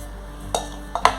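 The jar of a Wonderchef Nutri Blend 400 W mixer grinder is handled, giving a few soft plastic clicks and knocks close by against a faint steady hum.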